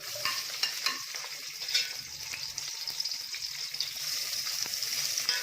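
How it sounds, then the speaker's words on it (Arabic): Chopped onions fry in melted ghee in a pot, a steady bright sizzle with occasional stirring clinks and scrapes throughout, close and continuous. "البصل طبعا قطعته قوانح شويه كده، بس السمن يذوب شويه. انزل عليه بايش؟ انزل عليه بالبصل."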